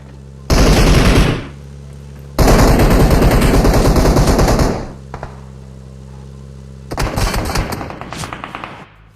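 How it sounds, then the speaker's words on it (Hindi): Gunfire in PUBG Mobile coming from behind: two long loud bursts of rapid automatic fire, a pause with a few faint pops, then a shorter rattling volley. "पीछे से बहुत सारे गन शॉट्स आते रहते हैं"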